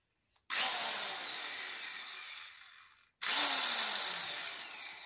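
An Elitech 350RE electric impact wrench runs in two loud, close bursts of roughly two and a half seconds each, its motor whining up and then slowly winding down, with a short silent pause between them.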